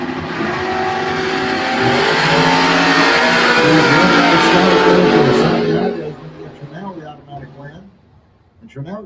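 A 1991 Mustang and a 1933 Ford Roadster launch side by side at a drag race, engines roaring loud and sustained as they pull away, then fading off into the distance while an announcer talks over the noise.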